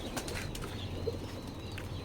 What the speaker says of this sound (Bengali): এই যে একজোড়া দেশি কবুতর